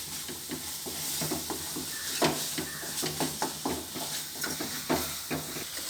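Masala for a chickpea gravy fries in a pan while a spoon stirs and scrapes through it in repeated strokes over a soft, continuous sizzle, close and clear with no talking.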